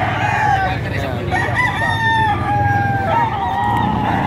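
Roosters crow loudly at a busy chicken market in Padre Garcia, Batangas, long drawn-out calls overlapping one another above a dense background of clucking and crowd noise.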